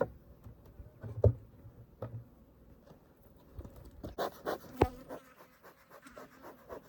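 Africanized honey bees buzz faintly around, with scattered close taps and bumps and a busier, louder stretch of buzzing toward the end.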